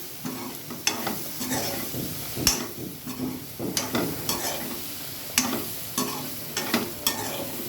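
Onion paste frying in a pan for an egg-stuffed capsicum curry, a steady close sizzle broken by repeated sharp scraping strokes of a spatula stirring the paste, with no voices.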